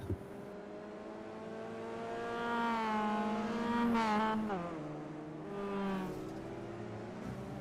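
Race cars lapping the Long Beach street circuit in iRacing, with engines revving and rising in pitch through the gears, swelling loudest around the middle as the cars pass close before easing off, sustained and without talk.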